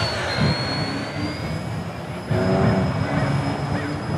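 An RC ERA C032 UH-1 Huey model helicopter flies in wind, its motor a steady high whine under heavy wind rumble, growing louder partway through.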